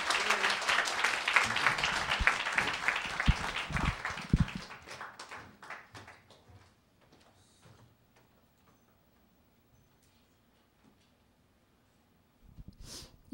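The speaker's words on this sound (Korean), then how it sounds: "큰 박수로 맞이해 주시기 바랍니다." An audience at a Korean church gathering claps to welcome a speaker, loud dense applause for about four seconds that quickly thins into scattered claps and fades to near silence, with a faint sound at the end.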